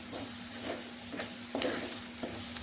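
Spice mixture with curry leaves stirred in a hot pan for masala dosa, a steady sizzle under repeated scraping strokes of the spoon at a moderate pace, close by, with no talking.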